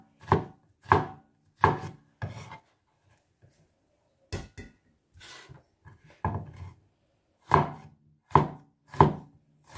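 Knife slicing through eggplant on a cutting board: sharp, close thuds in quick bursts of three or four, separated by short quiet gaps, with no voices.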